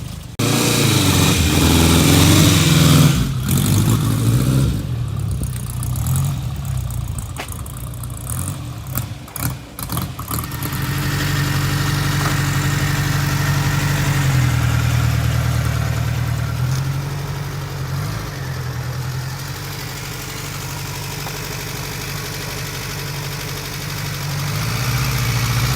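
A vintage Ariel Square Four motorcycle engine, about seventy years old, idles steadily and loudly up close after a few blips of the throttle, then settles into an even, throbbing beat.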